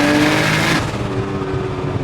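A 1900-horsepower Nissan GT-R with screamer pipes roars hard under acceleration, then the engine note cuts back to a rougher, lower burble, all loud and close.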